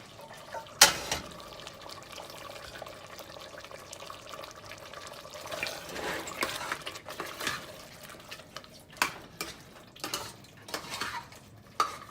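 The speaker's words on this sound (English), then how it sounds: "I had added 1 glass of water" A glass of water poured into a pot of Bangalore donne biryani, with close clinks of a utensil against metal, soft splashing and liquid sloshing, and several sharp pot knocks, alone without talk.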